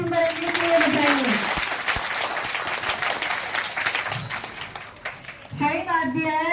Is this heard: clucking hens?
no